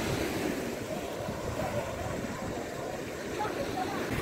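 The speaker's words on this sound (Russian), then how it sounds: "А вот и песочный пляж Альбатрос." Continuous Black Sea surf washes onto a sandy beach at Sochi in a steady broadband hiss and rumble, with no clear voices.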